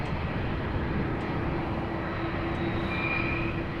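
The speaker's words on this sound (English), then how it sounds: "this is Turkish going to Istanbul, Airbus A330 flight 1952" A Turkish Airlines Airbus A330 jet at Amsterdam Schiphol produces a steady, broad engine roar throughout, with a faint rising whine layered on top.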